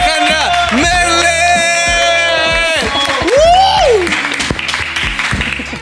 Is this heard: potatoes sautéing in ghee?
no